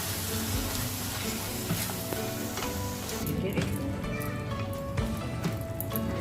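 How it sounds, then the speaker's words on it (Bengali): Marinated chicken stirred in a hot pan sizzles steadily with scraping and clinking of a spatula, close and moderately loud, under a constant hum, with no talking. "এখন এই যে চিকেনটা আমি ম্যারিনেট করে রেখেছি, এইটা এখন আমি সব নাড়াচাড়া করে এখন এটা এইভাবে হতে থাকবে।"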